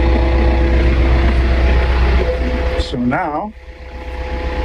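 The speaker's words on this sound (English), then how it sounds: "the PTO shaft is spinning" A tractor PTO shaft turning a hydraulic pump gives a steady mechanical drone and hum, then a brief voice cuts in near the end as the sound drops and settles back.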